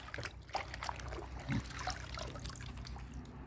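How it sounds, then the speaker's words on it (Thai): Water trickles and drips from freshly washed mustard greens set in a perforated basin before pickling. The dribbling is faint and close, with scattered soft drops. "ล้างเสร็จนะไปวางใส่กระมังที่มีรูนะจ้ะ ให้เสด็จน้ำจ้ะ"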